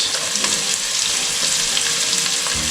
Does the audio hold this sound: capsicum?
yes